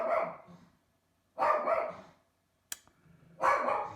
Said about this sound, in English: And my dog is going crazy.